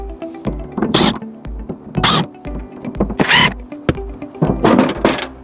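A screwdriver undoes the four corner screws of a plastic APsystems solar combiner box lid: short loud whirring bursts separated by brief pauses and small clicks, close by.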